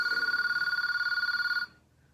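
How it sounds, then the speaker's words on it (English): A telephone bell rings loudly in a rapid, steady trill for about a second and a half, then cuts off abruptly into near silence. "look at that phone ring."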